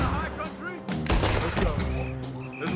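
Gunfire in Red Dead Redemption 2, scattered shots and a loud burst around the middle, mixed with shouted voices and game noise.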